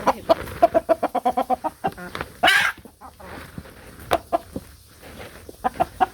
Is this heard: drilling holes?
no